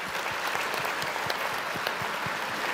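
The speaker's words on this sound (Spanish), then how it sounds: "Un aplauso para ellos que nos ayudaron a imaginar el futuro." Sustained audience applause at a small-business week event, a dense steady clatter of many hands clapping throughout with no talk over it.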